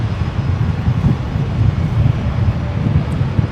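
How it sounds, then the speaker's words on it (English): A Jetstar airliner takes off from runway 19 left at Brisbane airport, a steady low roar of jet engines with wind rumble, heard from a distance. "Jetstar 656 heading to Canberra from 19 left."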